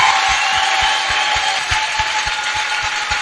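Dense, steady applause from a church congregation during a jubilee celebration for a priest, a broad wash of clapping with a rhythmic thump underneath, fairly loud and continuous.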